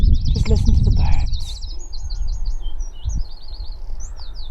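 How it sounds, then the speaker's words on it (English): Birds sing on a coastal hiking trail in Cornwall, with rapid high chirps and trills repeating close by throughout. Wind rumble and a brief voice sit under the song at the start. "Just listen to the birds."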